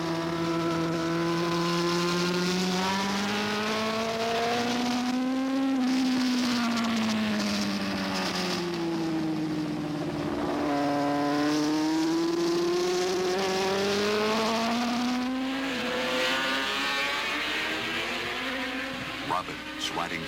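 Superbikes at the 1982 Molson Superbike Challenge race flat out on a track, engines screaming continuously with rising and falling pitch through gear changes, with a commentator's voice talking over the roar.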